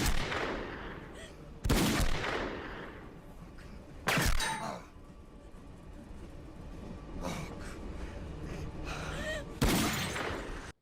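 Gunshot sound effects from the movie Snakes On A Train, several loud sharp blasts spaced a few seconds apart, with lighter cracks and rumbling noise in between and no talking.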